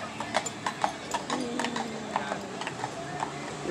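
Horse hooves clip-clop in a steady, fairly close rhythm past a city bus stop, a series of sharp regular knocks over street background noise.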